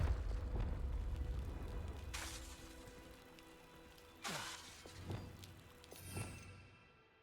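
In Hogwarts Legacy, a Confringo spell blasts with a loud booming burst, followed by several smaller rumbling impacts and crackles that fade out over a few seconds.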